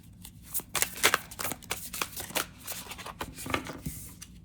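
Tarot cards shuffled by hand close up, rapid riffling flutters and soft slaps in quick irregular bursts, fairly quiet with no talking.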